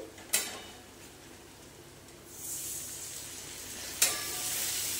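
Cumin, turmeric and chili powder paste soaked with salt, cooked down in a hot pan for a fish curry with water lily stems: a low steady sizzle with two sharp bursts of frying as the paste is stirred.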